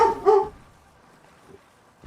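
A pet dog gives two quick, close barks in rapid succession, then the scene falls nearly quiet with only a faint soft sound afterward.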